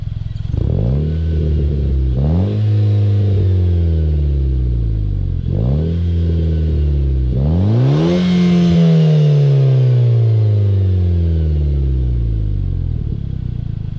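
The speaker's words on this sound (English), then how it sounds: "This is a full pull in sport mode" A 2014 Nissan Juke Nismo RS with an Injen 3-inch exhaust makes a full-throttle pull in sport mode, engine note rising repeatedly through gear changes to a loud final climb before falling away, heard close and alone.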